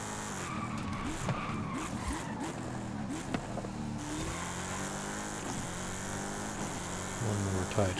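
Car tires skid and squeal through a tight corner during a Forza Horizon 5 race, the screech running steadily under a continuous engine roar for the whole stretch, with a brief louder surge near the end.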